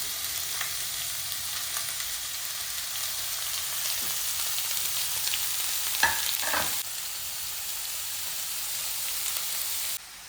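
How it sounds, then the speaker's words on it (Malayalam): Onion, ginger, green chili and cauliflower crackle with mustard seeds in hot oil, a close, steady sizzle broken by a few soft stirring scrapes, with no voices. "കടുക് പൊട്ടി വരുന്നുണ്ട് അതിലേക്ക് ഉള്ളിയും ഇഞ്ചിയും പച്ചമുളകും കോളിഫ്ലവറും എല്ലാം കൂടി ഇട്ട് കൊടുക്കാം"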